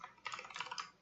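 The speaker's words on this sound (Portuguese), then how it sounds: "a gente vai estar digitando aqui entre chaves" Quick bursts of keystrokes on a computer keyboard while code is entered, a close, steady run of light clicks with brief pauses between groups.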